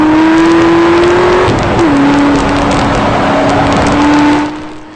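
A Corvette ZR1 circles the inside loop at Texas Motor Speedway in second or third gear, its engine a loud, steady drone heard from inside the car that dips briefly with a gear change before holding on and fading at the end.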